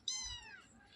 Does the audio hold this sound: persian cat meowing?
yes